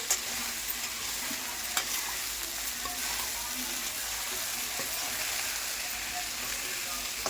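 Fried idli being stirred in a pan with steady oil sizzling throughout, a constant hiss broken by a few sharp clinks and scrapes of the utensil against the pan.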